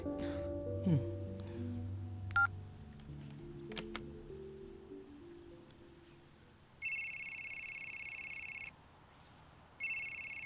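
An electronic phone ring sounds in two sustained bursts separated by a short pause, preceded by scattered clicks and low rumbling.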